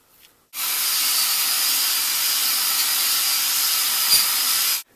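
A 3M bristle disc spinning against metal gives a loud, steady hiss that starts abruptly, holds evenly for about four seconds, then cuts off.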